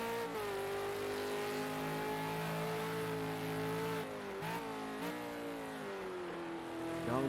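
A V8 Supercar race car on a hot lap at Bathurst, its engine holding a steady, high-pitched drone that dips in pitch for a moment as it changes gear, heard at a distance without any talking.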